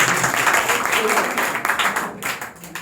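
Schoolchildren clapping together in a classroom during a lesson, a dense burst of applause that stays steady and close, then thins out toward the end.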